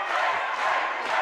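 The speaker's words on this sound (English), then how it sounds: "The crowd again cheering on their fight." Crowd cheering at a live kickboxing fight night at the Winter Gardens, a loud, dense roar of voices filling the hall for a brief moment.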